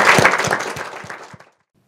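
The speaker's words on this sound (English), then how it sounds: "just one more round of applause for both of them" Audience applause closing a literary evening featuring two authors, a brief burst of clapping with a few distinct claps standing out, fading out after about a second and a half into silence.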